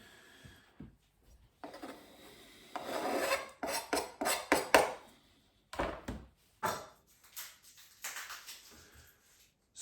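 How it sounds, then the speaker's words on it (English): A knife coarse-chops focaccia toppings on a board in irregular rasping, scraping strokes, some in quick clusters. The strokes are fairly faint and separated by short pauses. "So I am just going to give that a bit of a coarse chop up"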